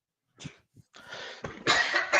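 A short cough, then a run of harsher, rougher coughing and throat noise, close and fairly loud, with no talking.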